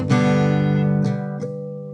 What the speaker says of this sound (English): He changes it to add in the harmonics leading into the outro, where it sounds like this.